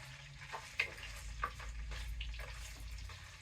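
Canned potatoes fry in grease in a pan with a steady, close sizzle, broken by a few clinks and scrapes as they are moved around.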